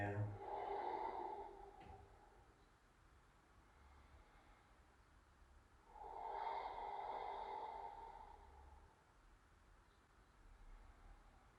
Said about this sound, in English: we're breathing here